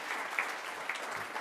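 A short burst of audience applause at an education-themed Q&A session, soft and steady like a crowd clapping from a distance, with no voices over it.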